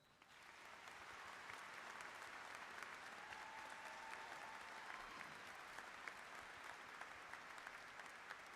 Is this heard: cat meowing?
no